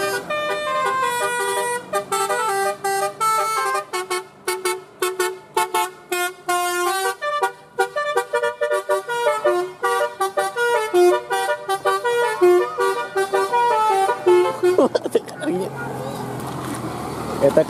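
Musical telolet horns on passing buses play repeated tuneful honking melodies, loud and close, continuing for most of the stretch before giving way to a burst of broadband traffic noise near the end.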